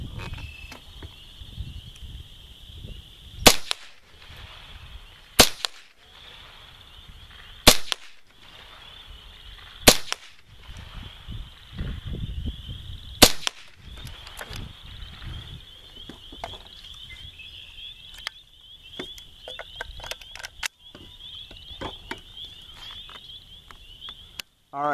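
Five sharp cracks of CCI Stinger .22 rimfire rounds fired outdoors, spaced a few seconds apart, loud and close over a steady chorus of insects and faint birds.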